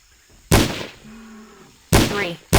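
Two sharp, loud rifle shots in the video game Trespasser, about 1.4 seconds apart, each with a quick echoing decay, followed by the start of a third.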